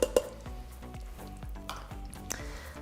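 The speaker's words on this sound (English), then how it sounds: "So just keep mixing, make sure you scrape the bottom as the saute is going so it doesn't burn on the bottom" A spoon stirs and scrapes the bottom of a pan as a creamy keto dish sautés, giving soft rhythmic scraping strokes over a quiet sizzle, with a couple of sharper clinks at the start.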